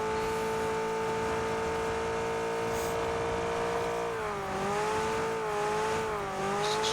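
Engine of a motorcycle in the video game PUBG on the Erangel map, a steady droning tone that dips and wavers in pitch near the end as it revs, heard throughout with no talk.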